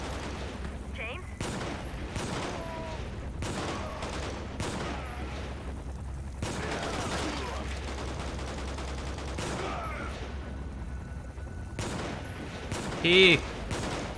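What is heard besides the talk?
gunshots in the video game Quantum of Solace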